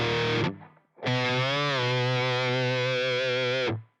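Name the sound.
distorted electric guitar playing a pre-chorus run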